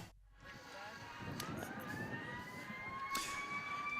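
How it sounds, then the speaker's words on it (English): Sirens wail with rising, sustained tones over a broad roar of crowd noise in a football stadium before a youth cup semifinal, loud and echoing as if across a large open space. "The sirens are blaring because they're very excited for the beginning of this semifinal."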